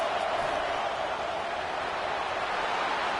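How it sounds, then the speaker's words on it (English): Stadium crowd noise in the NCAA 25 college football video game, a steady dense roar of a big crowd getting loud to rally its defense, sustained and even throughout without distinct voices standing out. "It is getting loud as this crowd tries to help its defense."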